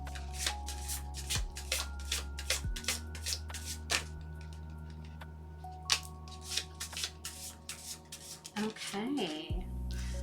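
Tarot cards being shuffled up close in quick repeated riffling bursts, followed by a pause and further shuffling and handling of the deck, with brief soft speech near the end.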